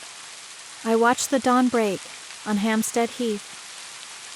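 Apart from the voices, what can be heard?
rain falling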